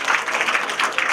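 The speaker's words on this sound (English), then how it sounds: "can I have a round of applause," Audience applause during a growth-mindset talk to students, a brief burst of dense clapping from a crowd in a room.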